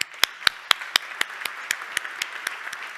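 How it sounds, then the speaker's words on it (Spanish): Guests are welcomed at a gastronomy event with clapping, loud distinct claps in a steady, even rhythm, about a dozen sharp strikes that grow slightly softer toward the end over a quieter patter of other hands. "Un aplauso enorme."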